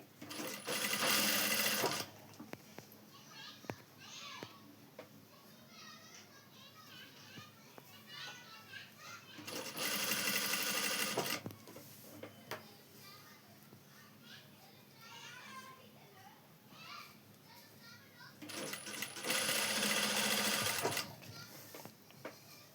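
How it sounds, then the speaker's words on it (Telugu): Sewing machine stitching piping onto a lined blouse, three loud bursts of rapid mechanical whirring separated by quieter stretches where someone talks and children are heard. "నిదానంగా కొంచెం కొంచెం కుట్టండి నీట్గా వచ్చింది"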